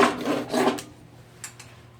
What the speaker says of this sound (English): you could easily slice this piece of pipe in half with a handsaw.